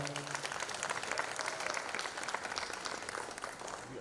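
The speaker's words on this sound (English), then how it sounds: "Let's give Simone Garcia a round of applause." Fairly faint, steady applause from a crowd at a school hospitality and tourism academy event, honouring a guest, a continuous patter of many hands with no voices standing out.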